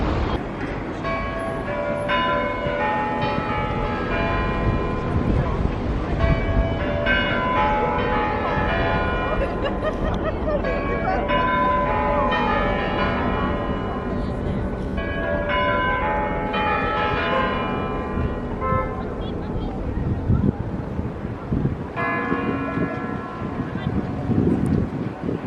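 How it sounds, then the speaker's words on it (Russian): Church bells ring continuously on Red Square in Moscow at night, a loud dense clangour of overlapping bell tones with a low rumble underneath, sustained throughout without pause. "колокола сразу, ага"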